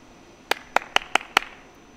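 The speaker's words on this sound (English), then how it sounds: "How many claps are there in the Friends theme tune?" Five sharp hand claps in a quick, slightly uneven rhythm, like the clap break of the Friends theme tune, close and alone with no talk.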